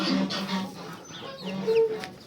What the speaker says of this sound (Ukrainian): Так, курка пішла вон звідси.